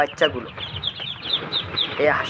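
Chinese ducklings, hatched by their mother, give bright, rapid cheeping calls close by, with a busy chorus of overlapping peeps through the clip and a louder burst near the end.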